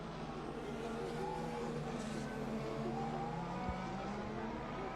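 Formula 1 cars race during an overtake at the 2014 Italian Grand Prix, a continuous high engine whine with shifting pitch, heard from a distance as a sustained broadcast roar.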